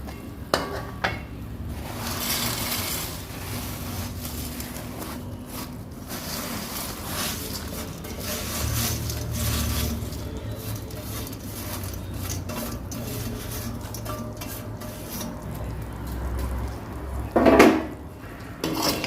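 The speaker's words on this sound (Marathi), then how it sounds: "आता आपण यामध्ये बनवलेली बुंदी सर्व घालून घेऊया" A spoon scrapes and stirs homemade boondi through sugar syrup in a metal pan, giving a steady, close run of gritty rubbing and faint clinks, with one louder clatter near the end.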